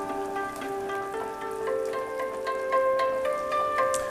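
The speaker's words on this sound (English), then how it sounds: "what we're going to do is break them up with our spoon here" Simmering beef barley soup bubbles and crackles steadily in the pot while a spoon breaks up whole tomatoes, with soft pops and wet stirring sounds close by.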